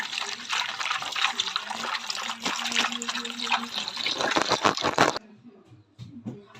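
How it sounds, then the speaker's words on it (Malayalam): Water poured steadily into a milk mixture for a homemade watermelon sherbet, a continuous liquid splashing that stops abruptly near the end, followed by a few soft handling clunks. "ഇനി നമ്മൾ അതിലേക്ക് ആവശ്യത്തിൻ്റെ വെള്ളം അങ്ങനെ ഒഴിക്കുകയാണ്"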